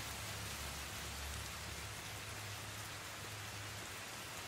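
Steady rain falls outdoors in a continuous, even hiss of drops on surfaces with a low rumble underneath, moderately loud and unbroken throughout, with no voices.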